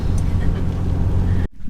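A van drives up a road toward the Redondo campground in New Mexico, giving a steady, close low engine and road rumble that cuts off abruptly near the end.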